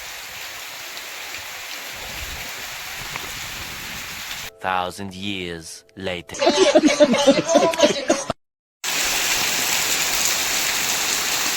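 Heavy monsoon rain pours down in a dense, steady hiss. The downpour is cut in the middle by a short inserted passage of voices and laughter, then returns at full strength.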